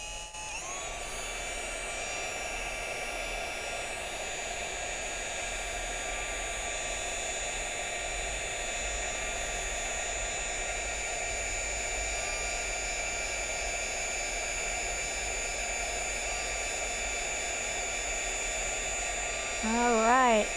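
A heat tool blows steadily on a paper craft project, a continuous loud whooshing hum with a high whine, running unbroken for about twenty seconds before a brief louder surge at the end.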